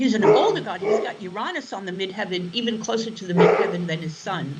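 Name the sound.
dog barking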